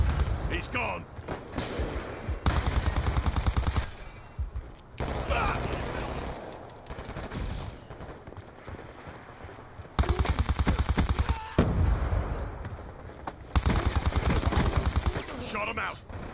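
Light machine gun with target finder firing in Call of Duty Black Ops 2, loud rattling bursts of rapid automatic fire in several long strings, separated by quieter stretches, with a voice talking over the action.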